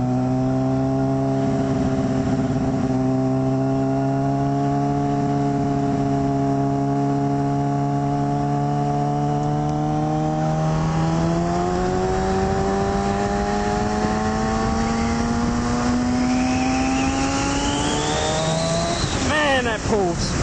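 A car with an M4GP exhaust accelerating hard through the gears, its engine note climbing steadily in pitch, dropping at each upshift and rising again, loud and close throughout.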